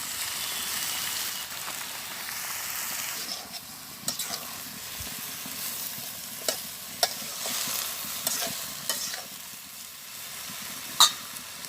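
Whole garlic cloves, radhuni seeds and leafy greens fry in hot oil in a pan, giving a steady soft sizzle with scattered sharp crackles and pops, fairly quiet and with no voices.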